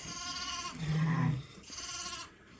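Texel sheep and lambs bleat in two or three close, wavering calls, one lower and rougher between higher nasal ones, with no people speaking.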